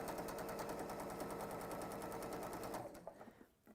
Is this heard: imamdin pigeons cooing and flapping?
no